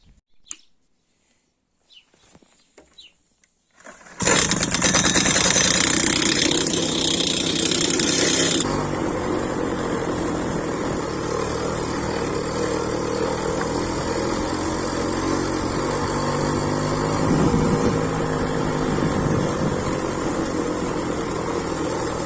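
A homemade motorized scooter engine starts after a few quiet seconds, then runs loud and continuous while being ridden, with a buzzing, steady drone that shifts slightly in pitch.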